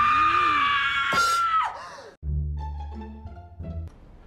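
A high, sustained scream from the horror film Scream 3 rings out loudly, then breaks off into lower rumbling, thuddy movie sounds and tones.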